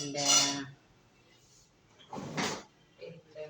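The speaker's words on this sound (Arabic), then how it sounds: "ونقلب العدس بتاعنا كده" Lentils being stirred in a cooking pot, two clattering bursts of spoon scraping and knocking against metal, separated by quiet, with smaller clinks after.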